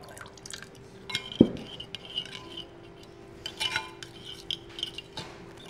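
Olive oil and vinegar sauce stirred in a bowl, a spoon clinking and tapping against the dish in light, irregular bursts, with one sharper knock and soft wet sloshing between, close and fairly quiet.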